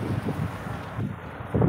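Sea breeze on a beach beside a temple, gusting wind buffeting the microphone in low rumbling bursts with no other clear sounds.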